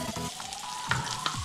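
Butter sizzles in a kadhai while pav bhaji is being started, a close, steady frying hiss broken by a few short scraping clicks and light knocks of a spoon against the pan.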